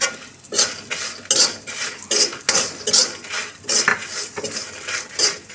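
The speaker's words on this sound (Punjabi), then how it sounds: "ਲਸਣ ਭੁੱਜ ਗਿਆ ਹੈ ਆਪਣਾ ਭੁੱਜ ਕੇ ਬਿਲਕੁਲ ਤਿਆਰ ਹੈ" Garlic roasting in a spoonful of white oil in a pan, stirred with a metal spoon that clinks and scrapes in repeated bursts over a soft sizzle, close and fairly loud, with no talking.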